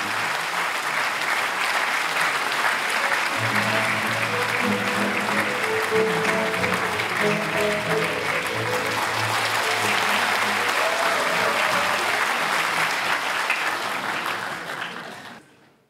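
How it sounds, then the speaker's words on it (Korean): A large audience in a meeting hall applauds to welcome a member of parliament to the stage, dense continuous clapping at close range throughout before it fades out at the end. "박수로 맞아주시기 바랍니다."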